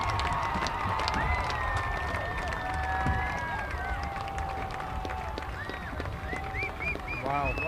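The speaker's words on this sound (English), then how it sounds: "Listen to this crowd." A large crowd at a high school football game cheers and roars continuously as the game clock runs out, loud and sustained, with occasional whistles and shouts over the din.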